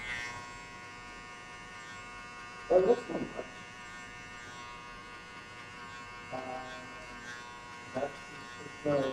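An electric hair clipper with its lever set halfway hums steadily through a buzz cut, with a few brief louder bursts as it cuts.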